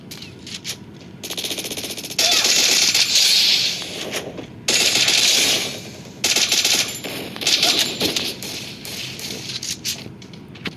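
SCAR rifle fire in a video game sounds as several rapid automatic bursts of varying length, loud and close, separated by short quiet gaps.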